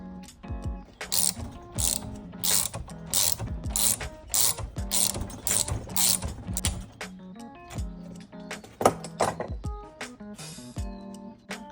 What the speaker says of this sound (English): so we're gonna tighten this bolt out